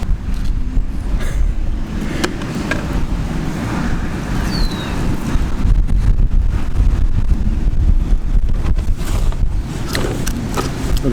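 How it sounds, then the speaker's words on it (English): Strong wind gusts across a lake shore, a continuous loud rushing roar buffeting the microphone, with faint lapping water underneath and no talking. "the wind has really picked up"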